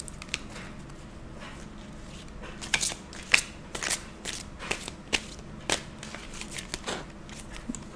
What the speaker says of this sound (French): on va prendre une carte du tarot.